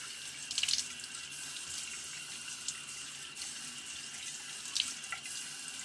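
Water runs steadily from a bathroom sink tap, a close hiss with a couple of brief splashes as the face is wetted before a shave with a Gillette razor and ARKO soap.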